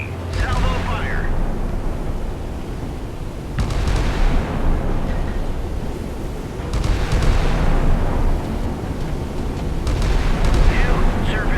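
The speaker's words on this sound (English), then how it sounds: "Engage track 7003. Salvo fire." Missile salvo launches in the naval combat game Sea Power at Dong Hoi, with loud roaring bursts and rumbling whooshes one after another, swelling and fading over a constant low drone, while voices speak over them.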